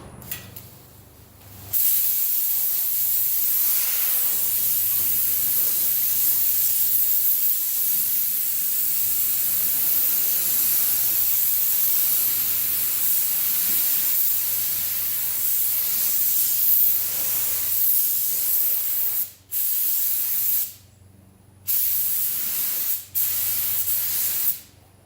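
Spray gun laying epoxy primer onto a 2010 Acura TL body under deer-strike repair, a loud steady broadband hiss running nearly nonstop, briefly cut off a few times near the end as the trigger is released.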